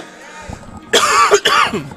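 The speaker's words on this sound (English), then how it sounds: "Coughs." A single person gives a couple of harsh, close coughs, preceded by a faint rasp of breath, in a quiet room.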